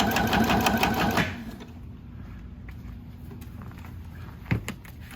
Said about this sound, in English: right now she's sewing that down where those little grooves were